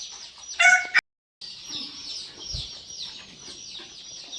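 Chickens cluck and chatter steadily at close range in a poultry setting, with a short loud squawk near the start, a brief dropout, and then continuous clucking with no talk.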